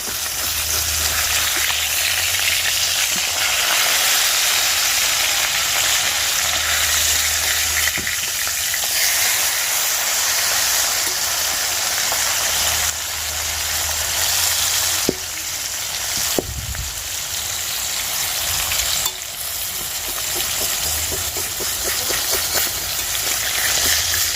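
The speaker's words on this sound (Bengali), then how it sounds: "মাছের এক সাইডটা সুন্দর ভাজা হয়েছে এবারে উল্টিয়ে দিই আর আর এক সাইডটা ভালো করে ভেজে নিই" Fish fries in a pan, one side already browned before it is flipped, with a continuous loud sizzle and crackle and a couple of sharp clatters from the pan partway through.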